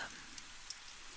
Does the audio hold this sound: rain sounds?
yes